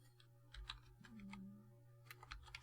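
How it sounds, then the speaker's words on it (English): Computer keyboard keys pressed quickly while setting a root password during a Honeypot T-Pot operating system install, heard as scattered light clicks and taps, fairly faint and close, with no talking. "I'm trying to remember to press the keys quickly."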